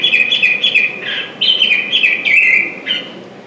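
Repeated bright, whistled call notes of a Bendire's Thrasher, delivered in quick phrases alone over faint background hiss.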